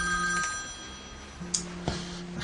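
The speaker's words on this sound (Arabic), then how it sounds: "خليه يجاوب في التليفون." A landline telephone rings indoors, its electronic tone sounding in two bursts with a pause between them, fairly quiet, with a few faint knocks and clatters in the room and no talking.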